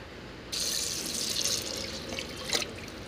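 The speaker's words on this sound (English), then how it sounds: "Next I'll add in some water." Water pours from a tap into a pressure cooker holding soaked chickpeas, starting abruptly as a close, steady splashing stream with a brief louder splash near the end and no speech.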